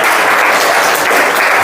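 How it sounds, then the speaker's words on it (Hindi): Loud, dense applause from a seated audience at a motivational talk, continuous and even throughout the short stretch with no break. "ताली बजा दीजिए स्पेशली।"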